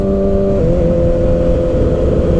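A 2019 Kawasaki Ninja ZX-6R engine with a full M4 GP aftermarket exhaust rumbles loudly up close, its pitch dipping once early on, then holding at a steady, throaty drone.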